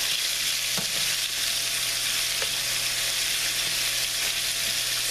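Chicken pieces browning in a frying pan give off a steady, dense sizzle that holds unbroken for several seconds, with a few faint clinks of a utensil against the pan.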